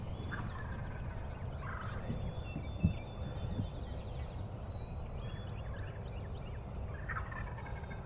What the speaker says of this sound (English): He gobbles down the hill and he gobbles up there, down the hill.